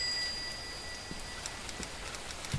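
Steady rain pours in a video game scene, a soft continuous hiss of falling water with faint scattered drop ticks and a thin tonal hum in the background.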